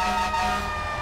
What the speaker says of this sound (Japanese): なんかこのサイレンがおかしいよね。